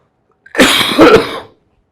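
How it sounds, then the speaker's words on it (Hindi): A single harsh cough, loud and close, about one second long and rough at the end, followed by silence. "अरे मुझे खांसी हो गई थी बहुत ज़्यादा"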